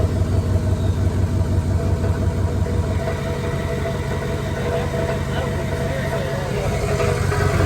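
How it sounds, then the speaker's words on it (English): A car engine idles with its exhaust rattling through the muffler, a steady loud low rumble with a fast buzzing flutter, no break throughout. "Yeah, it's still coming through the muffler. It's rattling now."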